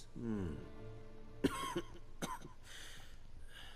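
A voice speaks briefly, then a couple of rough coughs break out at close range, followed by quieter breathy sounds.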